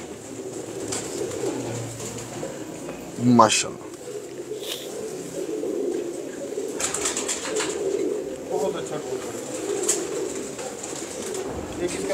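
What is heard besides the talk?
pigeons cooing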